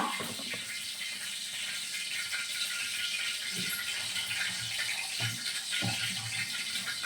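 Water in a cooking pan sizzles and hisses in a steady, loud, close wash of sound at home in the kitchen, with a few soft knocks underneath.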